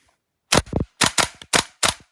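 A WE MP7A1 airsoft gas blowback gun fires four sharp semi-auto shots close by, each a snappy crack with its bolt clatter, spaced roughly half a second apart.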